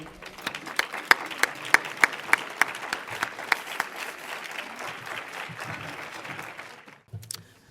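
A seated audience at a women's bar association scholarship tea breaks into a round of applause, dense clapping with a few louder individual claps standing out, sustained for about seven seconds before fading.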